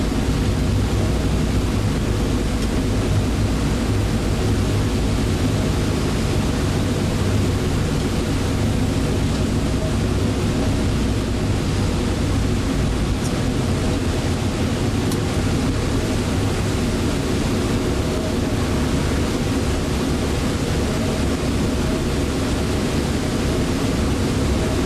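A Boeing B-17 Flying Fortress, Aluminum Overcast, on landing approach to runway 27 at Sugar Grove, Illinois, with its radial piston engines and propellers giving a continuous, steady, broadband drone for about twenty-five seconds.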